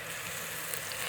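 Ginger-garlic paste fries in a pan with golden browned onions, giving a brief, steady, close sizzle with no pauses.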